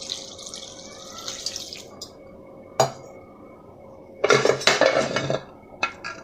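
Water poured into a pressure cooker holding washed drumstick leaves and salt: a steady hiss of flowing liquid at first, then scattered metallic clinks and clatter of vessels close by.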